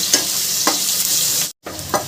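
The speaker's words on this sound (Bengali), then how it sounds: "পেঁয়াজটাকে আমি লাল লাল করে একটু ভেজে নেব" Chopped onion sizzles steadily in hot oil for prawn curry, a close, continuous frying hiss broken by a few stirring scrapes and one brief gap.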